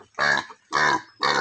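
Large pig on a farm giving three loud, close grunts in an even rhythm with short pauses between them.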